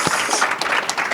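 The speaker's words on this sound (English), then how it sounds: "You can applaud." An audience claps and applauds steadily at a Women's Entrepreneurship Day summit held at the UN, a dense, continuous patter of many hands over a brief moment.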